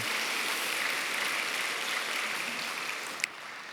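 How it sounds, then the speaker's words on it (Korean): A church congregation applauds the choir after a hymn at a Sunday worship service, a steady, even wash of many hands, fairly soft and distant, with no voices over it. "우리 축복 박수할까요?"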